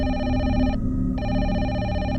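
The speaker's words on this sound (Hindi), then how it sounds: "फिर एक शाम एक बार फिर रिसेप्शन के टेलीकॉम में फ़ोन आता है" Hotel reception telephone ringing with a loud electronic bell tone, two bursts separated by a brief pause, close and alone with no talk.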